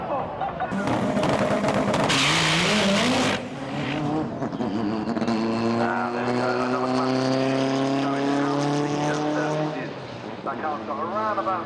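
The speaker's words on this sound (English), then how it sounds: "But a very gentle pass here from Sam Bolton, obviously wanting to check everything out before he starts stepping up the power." Front-wheel-drive drag race car making a gentle pass at a Competition Clutch FWD Drag Series event, its engine note rising in strong harmonic sweeps under loud commentary, with a brief burst of tire or crowd noise early on.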